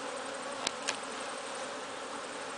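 Honey bees buzz steadily around an open hive during an inspection. The drone is soft and even and carries on with no talking, broken by two brief faint ticks.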